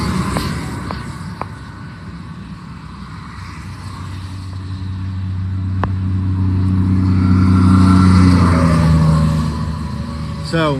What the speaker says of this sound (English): So if it's loud, it's the trucks going by.